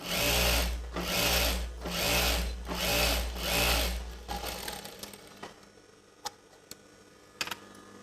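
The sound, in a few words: sewing machine stitching chudidar pant fabric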